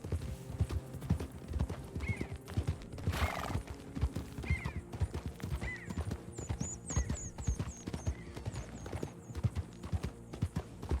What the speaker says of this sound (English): I could hear more horses.